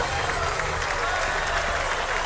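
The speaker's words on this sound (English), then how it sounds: "Yay, applause." Applause from a crowd inside an Oculus Quest 2 video game, a continuous, fairly loud wash of clapping lasting a couple of seconds without a break.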